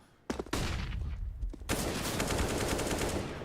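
Gunfire from the Counter-Strike: Global Offensive video game at an ESL Pro League esports match: a couple of quick shots, then a dense, sustained burst of rapid automatic fire that fills the rest of the moment.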